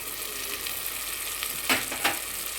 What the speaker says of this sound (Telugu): ఇది కూడా ఇప్పుడు జీడిపప్పు పేస్ట్ కూడా వేసేస్తున్నాను